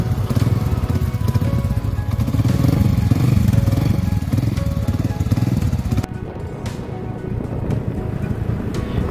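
Motorcycles carry riders toward the city on a mountain cross-country trip, a loud close engine drone with wind rush that drops to a quieter rumble partway, with voices faintly under the noise.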